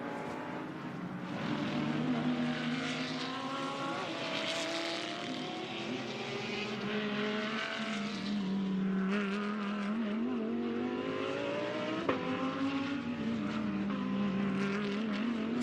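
A Porsche 991 race car is driven hard in GT qualifying at Ningbo, China, its engine drone loud and steady, rising and falling in pitch as it shifts through gears, with other cars faintly audible behind it.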